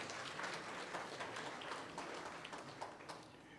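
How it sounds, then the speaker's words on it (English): Steady, moderately distant applause from the audience at a national aviation honours ceremony, an even wash of many hands clapping throughout without a clear peak or end. "Let's give them another round of applause for all that they do."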